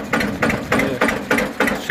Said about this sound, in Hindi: इस ट्रैक्टर की आवाज़ 242 की